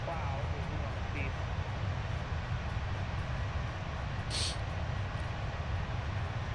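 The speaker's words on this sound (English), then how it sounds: "I love the IAE engines" Airbus A321 IAE engines in a flight simulator game give a steady, loud cabin drone with deep rumble and broad hiss, continuous throughout, with a brief high chime partway through.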